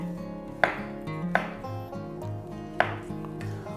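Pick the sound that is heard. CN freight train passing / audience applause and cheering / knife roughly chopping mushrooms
knife roughly chopping mushrooms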